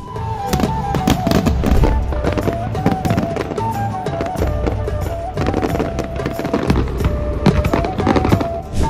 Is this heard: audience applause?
no